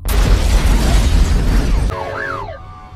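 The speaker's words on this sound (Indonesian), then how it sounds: "Seketika ledakan terjadi yang membuat gaduh di luar rumah sakit." An explosion erupts outside a hospital: a loud, roaring blast fills nearly two seconds, then breaks off into a fading low rumble with a whistling tone that rises and falls.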